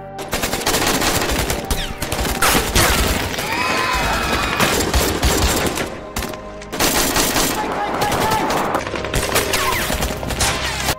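Heavy automatic gunfire rattles almost nonstop in a shootout between jihadist fighters and people escaping, dense bursts of machine-gun fire with booms, dipping once briefly before resuming, loud and close with possible faint voices beneath.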